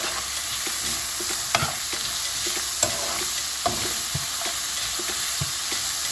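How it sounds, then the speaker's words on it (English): Food sautés in a pan with a bay leaf, giving a constant bright sizzle and a scattering of soft stirring scrapes and taps against the pan. "After we saute this down"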